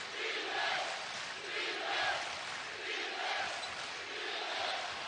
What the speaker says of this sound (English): Going to hear this cheer an awful lot.